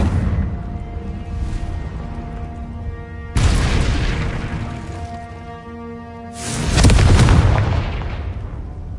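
Confringo fire spells go off in the Hogwarts Legacy video game as three loud booming explosions, each a sharp blast followed by a long rumbling decay, with no voices.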